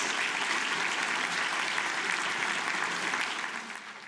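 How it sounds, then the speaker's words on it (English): Audience at a book festival author dinner in Tucson, Arizona applauds in a sustained, dense burst of clapping that holds steady before tapering slightly at the end. "It's so heartening to hear applause for literacy in Arizona."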